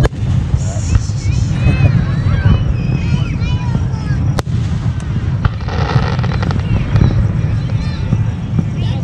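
Fourth of July fireworks show at Oak Run exploding across the sky, a dense, continuous roar of bursts and crackles with a sharp bang near the middle, heard amid crowd chatter and wind on the microphone.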